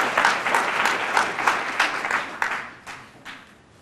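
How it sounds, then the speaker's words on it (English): Audience applause fills the room after a performance by high school students at a human rights day event, a steady burst of many hands clapping that tapers off toward the end, with no voices over it. "Let's give them another round of applause"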